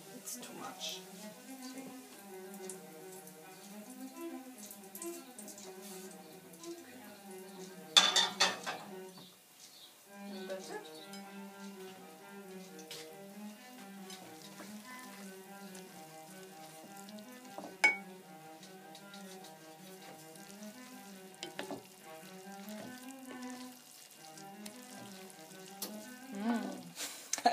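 Spaghetti carbonara with bacon and egg sizzling and frying in a pan, a steady soft crackle with occasional clinks of utensils against the pan, fairly quiet and close.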